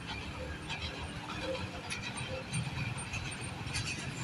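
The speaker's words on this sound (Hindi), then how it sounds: "Hazara express 12 down." Hazara Express 12 Down arriving at Mandi Bahauddin railway station, a steady rumble of rolling rail cars with faint clatter, heard at moderate distance under a low speaking voice.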